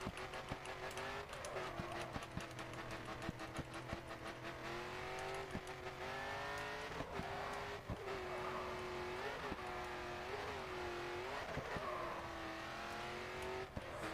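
A race car in the video game Grid accelerates and drifts, its engine revving steadily through rising gear changes with tyre squeal, loud and continuous with no talk.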